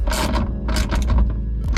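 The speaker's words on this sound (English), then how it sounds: "Clay's doing the touch work back here, tightening these up so they have all connection" Bolts are tightened on a boat's dual-circuit battery switch by hand tool, producing close mechanical clicks and ratcheting scrapes in several short bursts with brief gaps.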